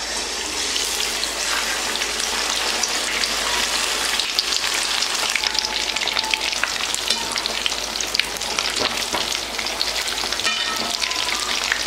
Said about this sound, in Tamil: நம்ம மசால் தடவி வச்சிருக்க சிக்கன் பீஸ் எடுத்து போட்டு நல்லா பொரிச்சு எடுத்துடலாம்